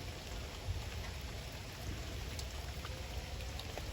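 Rain falls steadily outdoors while someone walks through it, a soft, even hiss of drops with faint patters and no voices.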